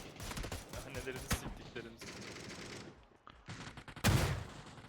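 Rapid gunfire rattles through a video game match in dense overlapping bursts and volleys, with a brief lull before a sharp, loud shot near the end.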